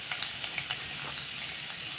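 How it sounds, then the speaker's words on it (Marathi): Lengthwise-sliced garlic hits hot oil with spluttering mustard seeds while tempering a Marathi-style vegetable dish: a close, steady sizzle dotted with sharp crackles and pops, no voices. "मोहरी तडतडली की त्याच्यात आपण लसूण घालायचा"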